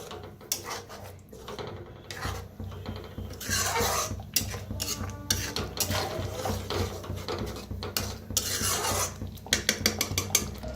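Mixed masala vegetables are stirred in a pan over a wood-fired clay stove, the spoon clattering and scraping against the metal in uneven bursts with scattered sharper knocks near the end.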